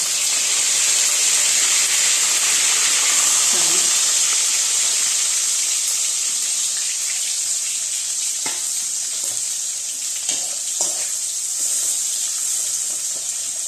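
Cumin and curry leaves sizzle in hot oil in a pan for village-style stuffed brinjal, producing a loud, steady hiss and crackle throughout, with a few soft clinks and stirring knocks later on.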